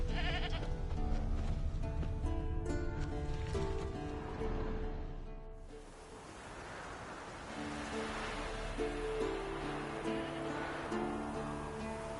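A goat bleats in a video game, repeated calls set against a steady bed of game music and ambient tones, moderately loud, with no talking over it.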